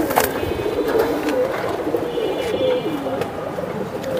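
Pigeons of a fancy breed, silver-marked male and female kept for sale, coo steadily in a low, continuous murmur with a few faint chirps above, close by and without talk.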